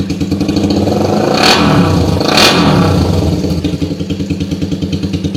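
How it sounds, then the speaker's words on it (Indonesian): A modified Suzuki Satria motorcycle engine revs hard twice, swelling and falling back, then settles into a loud, rapid pulsing idle close to the microphone. "Itu suara kalau gasnya ditambahkan"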